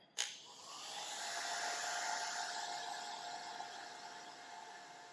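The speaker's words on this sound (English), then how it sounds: "So I'm just slowly turning the wheel and kind of keeping the hair dryer stationary." Hair dryer blowing steadily on a clay coil pot turning on a pottery wheel, a sharp click at the start followed by a continuous close, even whoosh of air with a faint motor whine.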